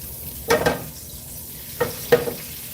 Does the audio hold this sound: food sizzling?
yes